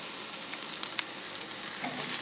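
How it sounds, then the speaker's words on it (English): Sauced BBQ ribs sizzling over really hot coals on a grill: a steady, dense crackling hiss close by, continuous throughout with small pops. "now he's just putting it over the really hot coals to get that nice caramelized ooey goodness"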